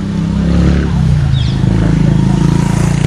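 A motorcycle on a narrow old street in Intramuros, Manila, its engine droning loud and close in a steady low rumble throughout, mixed with street noise.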